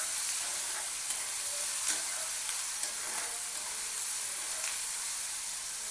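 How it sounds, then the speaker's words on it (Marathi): Onion and green tomato sautéing in a pan for egg bhurji, a continuous bright sizzle with faint occasional stirring taps, steady and close, no voices. "छान परतून घ्यायचं टमाट्याला पण।"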